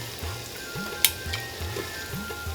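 Onions with spice powders, cumin powder and salt sizzle and fry in a pan on a clay kitchen stove, a steady crackling hiss broken by soft stirring scrapes and one sharp clack.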